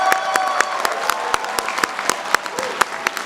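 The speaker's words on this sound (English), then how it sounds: "let's give a round of applause to our graduating Bachelor of Science degrees class of" Audience applause for a graduating Bachelor of Science class at a Columbia Engineering class day ceremony, dense steady clapping from a large crowd throughout.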